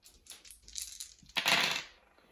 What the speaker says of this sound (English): so you need to roll another 4 dice